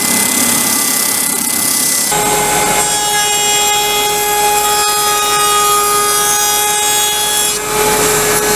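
A power saw whines steadily and close while shaping a radius on cedar table legs, its pitch shifting slightly as it cuts, running loud and continuous after a short start-up.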